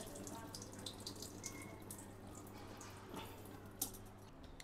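Clams are rinsed in a kitchen sink under a running tap, a faint, steady trickle of water with soft splashes, close by and quiet throughout.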